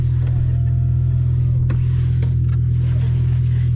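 A 300HP Ford Focus ST engine runs with a loud, steady low drone, a close constant rumble from inside the car with a slight rise and no talk over it.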